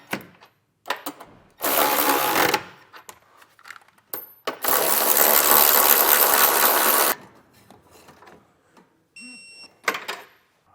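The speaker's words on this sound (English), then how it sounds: "we can come back and tighten and torque the 4 bolts that are remaining on each side" Trailer hitch bolts being tightened and torqued while mounting an EcoHitch hidden receiver on a 2021 Toyota Highlander, with two long loud whirring tool bursts, the second lasting several seconds, among shorter clicks and clanks.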